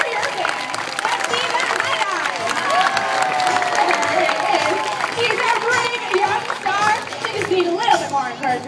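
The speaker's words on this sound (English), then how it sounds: "She's gonna need every single one of you to put your hands together." Sustained applause from a large crowd, with clapping mixed with cheers and chatter, continuous and fairly loud throughout.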